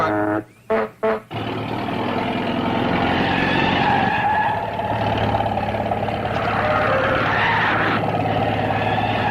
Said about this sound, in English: Whoever's driving that truck's mighty shy on brains.